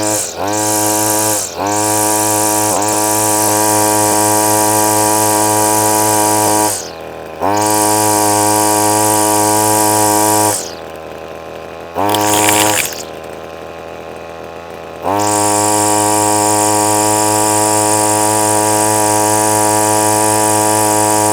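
Petrol line trimmer running on a new cheap carburetor, engine droning steadily at a fairly high pitch and dipping briefly several times as it falters before picking back up, loud and close with no talk.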